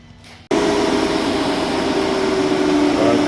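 A 2016 Jeep Cherokee electric cooling fan switches on under PWM control at 80 percent duty, starting abruptly after a brief quiet moment and then running as a steady, loud whir with a constant motor hum close by.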